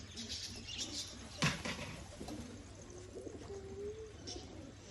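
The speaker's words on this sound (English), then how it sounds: "Got 13 birds around the other side I'm going to let out soon for a fly." A flock of pigeons, about thirteen birds kept in a loft, cooing softly with a sudden burst of wing flapping, close and fairly quiet over a low background hum.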